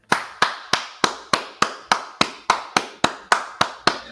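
A steady run of hand claps, about twelve sharp, evenly spaced slaps in roughly four seconds, close and fairly loud with no talking over them.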